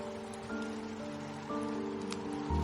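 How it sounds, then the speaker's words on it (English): Steady rain falls in the video game Sky Division, a continuous close patter with tonal game ambience layered over it and a brief louder swell near the end. "The rain calmed down a bit"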